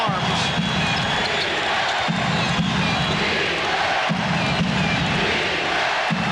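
A packed arena crowd roars steadily at the 1994 NBA Finals basketball game between the New York Knicks and Houston Rockets, a dense continuous wall of cheering with a commentator's voice running over it.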